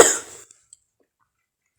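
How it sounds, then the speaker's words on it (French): A single sharp cough sounds close to the microphone at the very start, then fades into near silence with a couple of faint small clicks. "si je tousse quelques fois, c'est parce que je suis malade"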